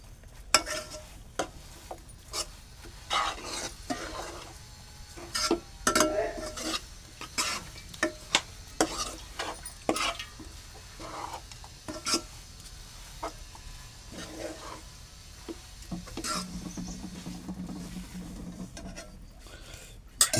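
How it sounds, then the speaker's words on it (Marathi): A spoon stirs tempering spices through hot oil in a pan for a soybean-chunk curry, with scattered scraping clinks and knocks over a soft, continuous sizzle, close and fairly quiet. "ढवळून घेऊया आपण, जेणेकरून फोडणीचं मसाले तेल सगळीकडे लागेल."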